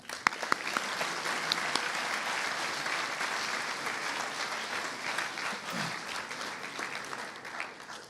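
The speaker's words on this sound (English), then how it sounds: "Give these guys a round of applause." A round of applause for award recipients at a high school awards ceremony at a Baptist academy, a sustained, even wash of clapping from a seated crowd lasting about eight seconds, with a few louder nearby claps early on.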